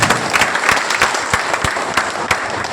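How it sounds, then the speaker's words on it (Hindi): Hearty applause from the crowd at a state-level meeting of a Bihar water-supply maintenance workers' union, a dense, steady wash of many hands clapping with sharp individual claps standing out, lasting throughout at close range. "जोरदार ताली के साथ स्वागत किया"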